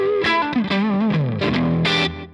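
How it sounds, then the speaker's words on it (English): Electric guitar from Jimi Hendrix's "If 6 Was 9" with repeating delay echoes (about 186 ms) trailing each bent, distorted note, a dense, effect-heavy phrase played alone. "So you got about seven echoes."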